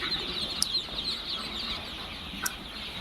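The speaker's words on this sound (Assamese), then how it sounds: "আমাৰ এইটো ঘৰতো পোৱালি আছে" Chickens at a poultry farm in Darang, Assam, make a soft, continuous clucking and chirping bed, fairly faint and diffuse, with a couple of brief sharper calls standing out.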